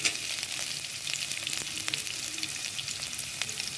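Beans and other vegetables fry in a pan for hotel-style noodles, giving a loud, continuous sizzle with scattered crackles and light stirring clicks. No one speaks.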